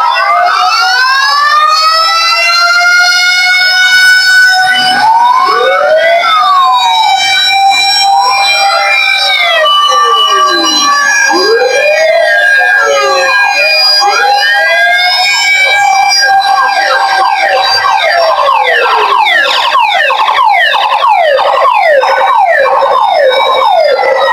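Several loud fire truck sirens wail together, rising and falling and overlapping in continuous sweeping cycles, with faint voices underneath.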